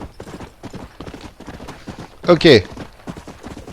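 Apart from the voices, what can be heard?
horse galloping in video game Red Dead Redemption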